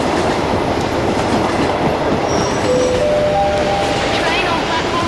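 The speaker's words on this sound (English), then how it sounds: "Train on platform 3 is at 10." Train arriving at a station platform rumbles continuously with a steady roar of wheels and carriages and faint squeals of brakes, loud and near, with voices mixed under the noise.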